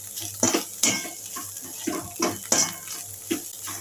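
Paneer is stirred in a pan with a utensil, producing a rhythmic series of close scraping clinks and metallic knocks over a quiet background.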